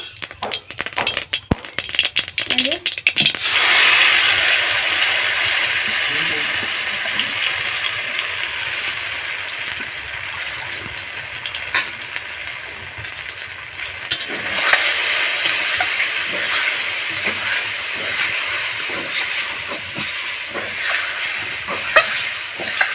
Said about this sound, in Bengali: এবারে আমি ব্যাটারটা দিয়ে দিব